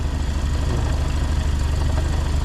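A freshly overhauled engine idles smoothly and steadily, a loud close low rumble with even, regular pulses and no other sound.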